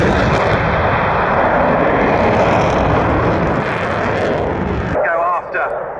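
Jet aircraft screaming past in a high-speed low pass at about 580 knots and 100 feet, a loud continuous broadband roar that fills most of the clip, then drops away as a voice speaks near the end.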